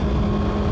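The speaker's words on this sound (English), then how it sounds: "So it's a 4-cylinder liquid cooled engine, like I said, basically the same as its predecessor." The 4-cylinder liquid-cooled engine of a 2024 Kawasaki Ninja ZX-6R drones in a loud, steady, dense rumble that holds unchanged through the short stretch.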